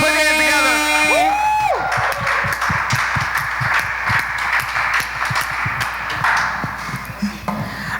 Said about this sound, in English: So give another round of applause for RNA Monty.